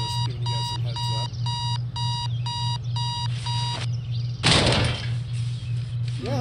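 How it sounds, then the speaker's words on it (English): An alarm clock in the video game Postal 2 beeps loudly in a steady repeating pattern of electronic tones over a low hum, then cuts off and gives way to a brief rush of noise. "that's normally how I react whenever I hear my fucking alarm go off"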